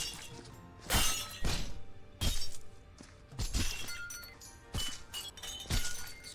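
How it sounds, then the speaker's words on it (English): Glass shatters again and again in the Christmas Viscera video game, with about eight sharp, loud crashes spread unevenly over several seconds and lighter clinks and thuds between them. "There's glass flying everywhere."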